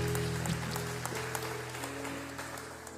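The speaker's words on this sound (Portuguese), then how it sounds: "Sente-se aplaudindo ao Senhor em nome de Jesus." A church congregation applauds, a dense, steady patter of many hands clapping together, moderately loud, over a sustained musical tone that fades slightly toward the end.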